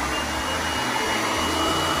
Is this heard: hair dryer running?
yes